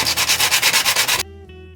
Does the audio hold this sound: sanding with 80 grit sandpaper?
yes